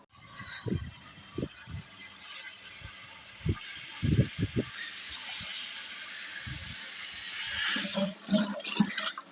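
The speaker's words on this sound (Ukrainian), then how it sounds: "зараз додаємо воду" Water runs and splashes as it is poured into a mix of phosphorus fertilizer and ammonium nitrate for drip-feeding raspberries, a steady rushing pour with intermittent knocks and sloshes, swelling louder toward the end.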